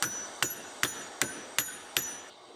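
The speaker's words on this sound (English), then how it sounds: "When all else fails, just use the hammer." A hammer strikes an old crusty engine piston from a 1968 Dodge R/T six times in a steady rhythm, each blow a sharp close metallic knock.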